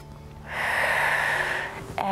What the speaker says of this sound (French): Écoutez bien le son de votre respiration.